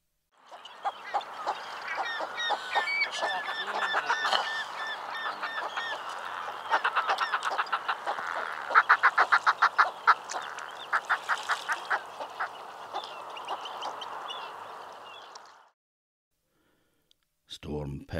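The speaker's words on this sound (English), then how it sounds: "Fulmer, Mallymark." Fulmars on Orkney keep up a continuous loud cackling chatter, with rapid repeated grating notes that build into faster bursts before the sound stops abruptly.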